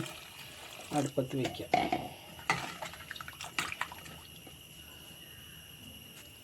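Water is poured into a cooking pot with elephant foot yam for a buttermilk curry: a few splashy gurgling bursts and drips, then clinks as the pot settles, while someone talks briefly.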